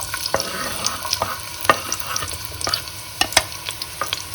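Onions frying in a pan for a sausage, tomato and ricotta pasta, with a constant close sizzle broken by irregular sharp clicks and scrapes from stirring.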